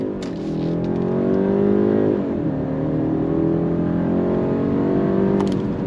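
A 2025 BMW 530i sedan with a four-cylinder turbo engine accelerating hard, its steady loud engine note rising in pitch, dipping briefly at a shift near two seconds, then climbing again with no talking.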